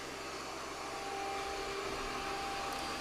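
An Ecovacs Deebot T30 Omni robot vacuum and mop runs nearby indoors with a steady, even whirring drone that holds at constant level throughout.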